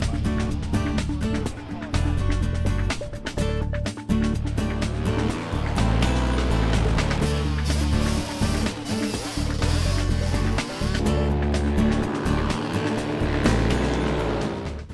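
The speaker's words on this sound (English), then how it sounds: "a 3/8 of a mile long ice track, motorcycles, ATVs, and sidecar machines" Motorcycles, ATVs and sidecar machines race on a 3/8-mile ice track at a Michigan District 14 winter ice race, engines roaring loud and continuous with shifting revs, under a voice and what may be music.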